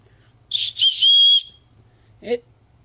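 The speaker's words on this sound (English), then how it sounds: "Nifty difty little cheap whistle." A cheap budget whistle is blown twice, a short blast then a longer sustained one, shrill, loud and close, followed by a brief soft clatter.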